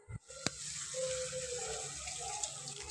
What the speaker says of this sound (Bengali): লাল লাল হয়ে আসলে সামান্য পরিমাণ জল দিয়ে দেব